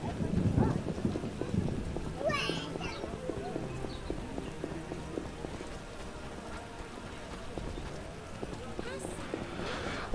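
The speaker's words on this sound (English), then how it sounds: "Scourge of the lords, this rain." Video game rain hisses steadily in the background with low thunder rumbles, under horse hooves clopping and scattered voices in the distance.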